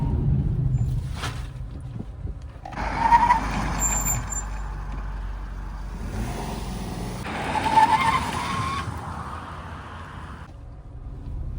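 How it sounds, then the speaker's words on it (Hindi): A Maruti Swift Dzire braking hard from 80 km/h, loud close road and engine rumble with two long tire-scrubbing squeals rising and fading in succession. "अब वापस सेकंड राउंड चेक करता हूँ मैं इसकी ब्रेकिंग का।"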